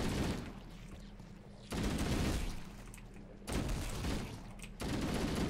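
Enemies blowing up in Halo: Combat Evolved Anniversary, heard as three loud, dense bursts of explosive crackle and rumble, each lasting over a second and separated by brief lulls of lower combat noise.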